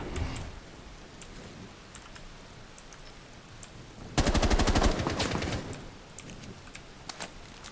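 A rapid burst of automatic gunfire in the video game Rainbow Six Siege rattles for about a second amid quieter scattered clicks and shots, fairly faint overall.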